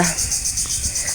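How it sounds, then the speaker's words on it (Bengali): Crickets chirping in a fast, steady pulsing trill at Vikrampur Buddhist Vihara, shrill and continuous, with faint low background noise beneath. "ঝিঝি পোকার ডাক শুনতে শুনতে আসছি"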